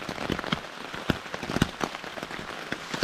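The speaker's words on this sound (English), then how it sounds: "rain is still making its way through" Rain patters and drips steadily on the fabric walls of a Fjallraven Wind Sack emergency shelter, with scattered sharper drop impacts landing close by in an irregular rhythm, no voices.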